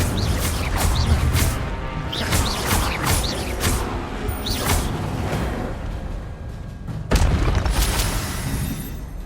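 Several booming spell blasts go off in Hogwarts Legacy as the Incendio fire spell is cast, with whooshing bursts and crashes in a loud, irregular sequence over rumbling game effects.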